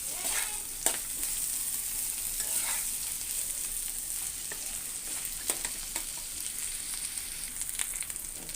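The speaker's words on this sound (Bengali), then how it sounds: "শুটকিগুলো আমি একসাথে ভেজে নিয়েছি ভাজাটা হয়ে আসছে" Dried loitta fish fries in a pan with a faint continuous sizzle and occasional light clicks of a spatula, fairly quiet and close, with no one speaking.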